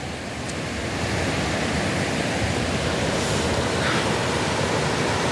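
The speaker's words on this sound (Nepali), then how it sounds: "यसैमा अझै प्लस गर्नको लागि पानी नै पर्न सुरु भयो" Rain falling steadily during a mountain trek from Hugu to Kapuche, a dense, even hiss of drops with no voices, growing slightly louder after the first second.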